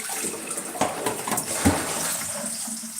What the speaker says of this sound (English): let's wash up, finish washing up